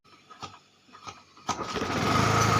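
A small scooter engine coughs through a few kick-start strokes, then catches and revs into a steady, close, buzzing drone that holds loud to the end.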